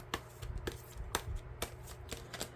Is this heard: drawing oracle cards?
yes